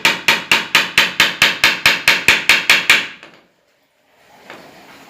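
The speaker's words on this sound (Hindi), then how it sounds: "आप इसी तरह चारों तरफ गैप देकर कील गाड़ दीजिए" Nails being hammered into a wooden screen printing frame: about a dozen sharp, evenly spaced strikes close by, stopping abruptly, followed by silence and a faint rustle.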